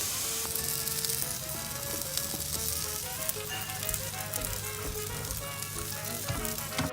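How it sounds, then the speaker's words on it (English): Bacon-wrapped deer tenderloin sizzling on a grill, a steady close crackle and hiss of frying fat with scattered pops, alone without voices. "here goes the tenderloin on the grill with the bacon"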